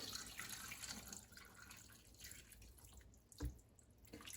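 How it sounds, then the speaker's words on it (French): Water pours into a Thermomix bowl while a Moroccan chicken and vegetable couscous is being made. A soft, steady trickle and splash runs underneath, then one brief sharper splash stands out near the end. "Je vais rajouter 1 litre d'eau."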